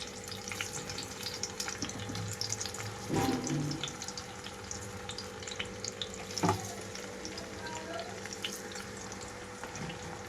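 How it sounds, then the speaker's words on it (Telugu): Raw mango pieces and halved tomato cook in a pan over a low flame, giving a soft, steady sizzle with a bright, hissing top. Two short louder bursts stand out as pieces go in, and no one speaks. "హీట్ అవగానే మామిడికాయ ముక్కల్ని ఇలా బోర్లించేస్తున్నాను."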